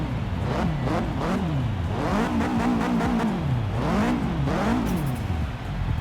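A Subaru Impreza WRX STI hatchback with a 500 hp build revs in Forza Horizon 3, its boxer engine rising and falling in repeated sweeping pulls, loud and close with no voices.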